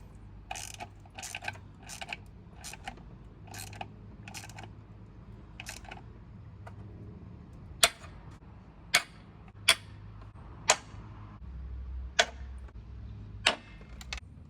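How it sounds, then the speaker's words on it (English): Torque wrench tightening bolts on a truck, giving a long series of sharp, evenly spaced ratchet clicks close by, fairly crisp against quiet background, with no talking. "Now we're going to torque them so they don't snap again."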